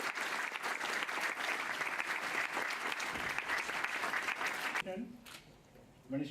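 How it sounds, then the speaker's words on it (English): A large formal gathering gives a warm round of applause for the President of India, with dense, loud clapping sustained for nearly five seconds before it fades and a voice begins. "a warm round of applause for our Rashtrapati Ji"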